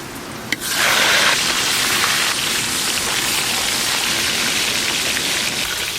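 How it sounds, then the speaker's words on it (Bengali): Rain falls steadily outside a home, a dense even hiss that starts after a brief click and then holds loud and constant with no voices. "পরিও আর থাকতে চাইছে না ঘরের মধ্যে, বৃষ্টি হচ্ছে"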